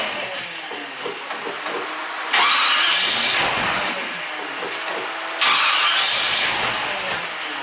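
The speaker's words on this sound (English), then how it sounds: "I'm gonna see if it will fire." A 1952 Chevy truck engine cranks and catches twice, each attempt a loud surge of starter and engine roar that then settles back, close and without talk.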